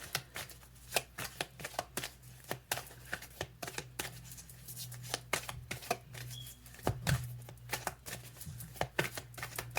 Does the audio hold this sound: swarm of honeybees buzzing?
no